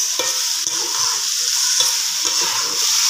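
Masala with chilli sauce and vinegar is stirred and fried in a pan. A loud, constant sizzle sits under a few soft scraping strokes of the spatula, close up and without speech.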